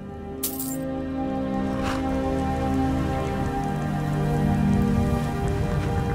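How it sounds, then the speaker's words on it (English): Steady rain pours in Skyrim during a carriage ride toward Solitude, a dense continuous hiss of drops hitting surfaces that holds at an even level throughout, with a brief brighter splash near the start and no talk. "This rain will stop eventually."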